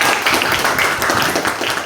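A classroom of students claps for their classmates in a short, dense burst of close, loud applause that holds steady throughout.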